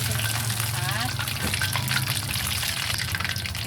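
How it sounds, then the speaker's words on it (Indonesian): Filled meatballs (bakso mercon) frying in hot oil, a steady close sizzle and bubbling throughout, with a person talking over it. "lanjut ini dibalik, goreng kembali hingga matang"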